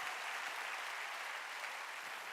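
Congregation applause at a Korean Sunday church worship service, a steady even roar of many hands clapping together, faint and distant, with no voices standing out.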